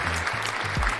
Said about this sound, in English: And that round of applause